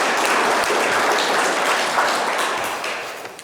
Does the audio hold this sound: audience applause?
yes